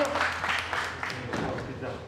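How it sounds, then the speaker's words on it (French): Contestants at a burger-making competition applaud themselves as it ends, a moderate burst of clapping mixed with cheering voices and chatter, fading slightly toward the end. "bravo à tous, vous pouvez vous applaudir."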